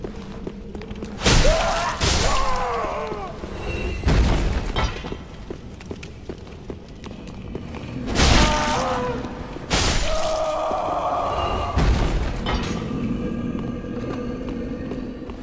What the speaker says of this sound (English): I think that's the sound of a sleeping giant.